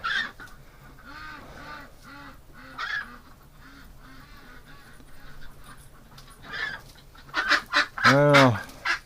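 Pet ducks quack and honk nearby, a steady run of soft repeated calls that builds into a louder, harsh burst near the end, with no talk.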